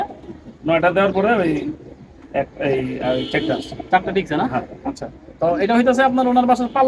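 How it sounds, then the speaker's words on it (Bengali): Pigeons coo softly in the background while a person talks close by over them. "কবুতর আপনারা দেখতে পারতেছেন"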